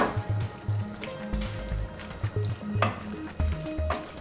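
Pappardelle pasta being moved into a pink sauce with bacon in a pan, soft sizzling with wet squishes and stirring clatter, fairly quiet and close.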